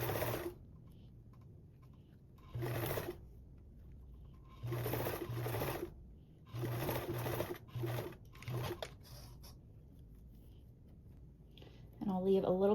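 A sewing machine stitches binding onto a duffle bag in short bursts of close, rapid whirring, stopping and starting several times, with a voice speaking at the very end.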